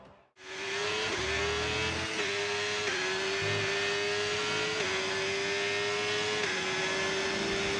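A Formula 1 race car in a video game howls at high revs during qualifying at Silverstone for the British Grand Prix, with a loud, continuous engine note that climbs and drops briefly at several quick upshifts.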